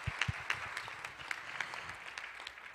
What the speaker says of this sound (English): Please give them another big round of applause as they return back to their seats.